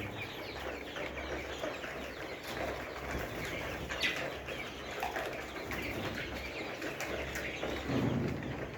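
Layer hens in a poultry shed keep up a low, busy murmur of clucks, with occasional wing flaps and a louder squawk near the end, all fairly faint and distant.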